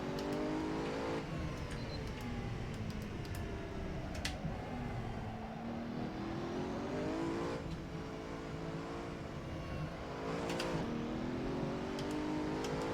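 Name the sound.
racing car engine in Assetto Corsa video game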